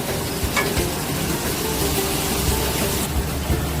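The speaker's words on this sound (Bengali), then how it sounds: "কুমড়োগুলো হালকা করে ভাজা হয়ে গেছে" Pumpkin pieces frying in a wok give a steady, loud, close sizzle with faint scraping stirs and no talk.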